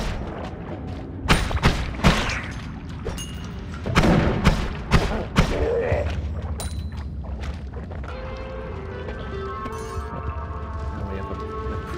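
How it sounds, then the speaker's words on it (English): Fireworks bursting in the video game Noita: a string of sharp booming thuds in the first half, followed by softer crackling and fizzing game sounds, with no talk over them. "There's been a lot of dudes up there getting caught in the fireworks"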